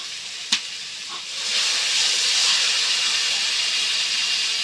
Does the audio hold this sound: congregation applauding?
no